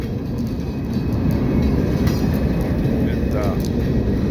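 An empty train rolls past at close range, a steady loud rumble with faint rail clatter and a high metallic whine above it, continuous throughout.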